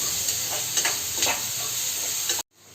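Onions deep-fry in plenty of oil for a country mushroom curry, a strong, close, crackling sizzle with a few stirring scrapes before it cuts off abruptly near the end.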